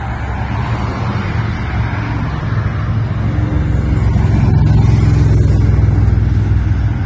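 Cars roll out onto the street at the Back to the Bricks rolling cruise in Flint, Michigan, their engines a continuous close rumble that grows louder and fuller midway as more vehicles pass, with no talking.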